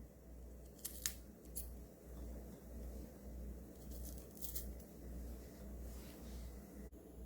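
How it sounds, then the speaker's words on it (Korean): Whole garlic bulbs are cut in half, heard as a few faint, crisp snipping cuts scattered over a quiet low hum, close by and with no talking. "통마늘은 이렇게 반으로 좀 잘라주세요."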